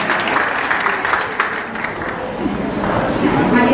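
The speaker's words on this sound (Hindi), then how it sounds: "ये तालियां बजाते रहिए।" Steady crowd applause with scattered clapping filling the whole stretch, people talking faintly underneath, at a religious quiz event.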